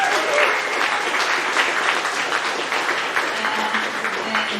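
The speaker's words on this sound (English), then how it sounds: "Clap if you were at the anime convention." A comedy club crowd breaks into loud, sustained clapping and cheering that fills the room evenly for several seconds.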